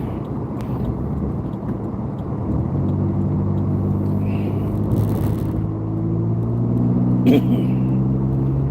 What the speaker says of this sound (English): We're getting on the interstate here in the little Geo Metro convertible.